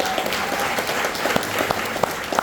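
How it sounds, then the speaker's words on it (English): A crowd applauds steadily at a college ribbon-cutting ceremony, dense clapping filling the space with a few louder individual claps standing out near the end. "So please give these guys a round of applause."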